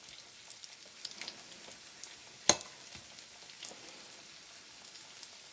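Zucchini frying in a pan gives a quiet, soft sizzle with scattered small pops and one sharp crackle partway through, heard alone without talk.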